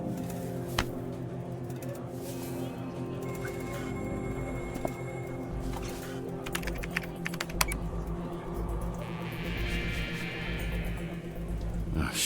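Steady, fast keyboard typing clatters during a video game session, continuous and fairly close, over a constant low game hum with occasional brighter clicks and tones.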